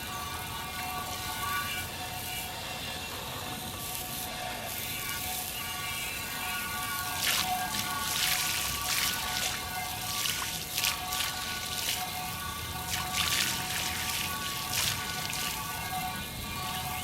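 A cast iron pan is rinsed under a running tap, giving a steady close hiss of flowing water with brighter splashy bursts in the second half as the stream hits the metal, no talk.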